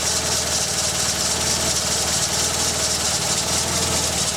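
Steady close idle from the 1.6 EZ engine in a Mk2 Golf, running just off the choke, an even low rumble with a fine regular pulse and no voices over it.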